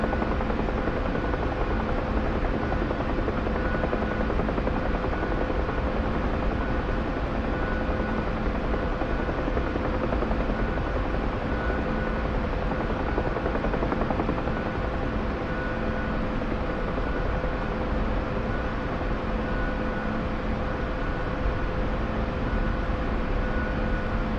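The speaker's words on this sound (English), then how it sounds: "Got a Chinook landing" A Chinook twin-rotor helicopter lands in the DCS flight simulator, a steady, loud and dense rotor and turbine roar holding constant throughout, with no voices.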